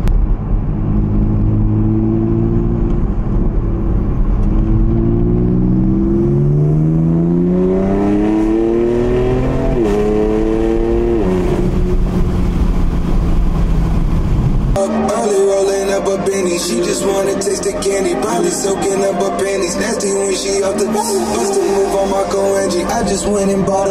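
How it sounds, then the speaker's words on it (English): A BMW M3 tuned with bootmod3, running rough with a suspected misfire, revs hard through the gears, its engine note climbing in several rising pulls before shifting into a busier, buzzing drone, loud and close. "I'm driving it being rowdy, and it's just like you can feel it kind of missing."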